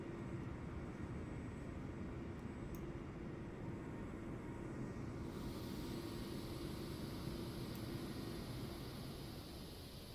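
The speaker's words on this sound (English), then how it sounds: "Sorry about the Embraer's noise." An Embraer airliner in Microsoft Flight Simulator 2024 drones with steady, loud broadband engine roar that holds constant for the whole stretch, with a brighter hiss joining midway and nobody speaking.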